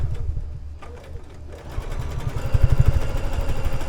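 A sewing machine stitching a quilt runs steadily, its motor whirring with a fast mechanical needle rhythm that grows louder and busier toward the end, close up with no voices.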